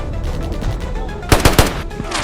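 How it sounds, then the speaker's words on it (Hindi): Machine gun cover fire in a patriotic drama skit about a soldier, with a loud background bed of sound and then a tight cluster of three or four heavy, close bursts of automatic fire near the end. "आप मुझे कवर फायर दो, मैं जाऊंगा।"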